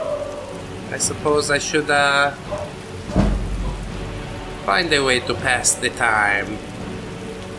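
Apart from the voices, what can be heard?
rain in video game Skyrim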